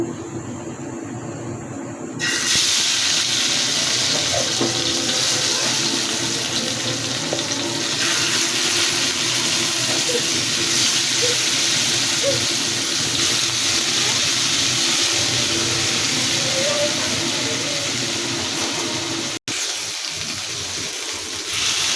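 Rui fish pieces dropped into hot mustard oil, giving a loud, continuous sizzle and hiss that holds steady throughout, with occasional crackles.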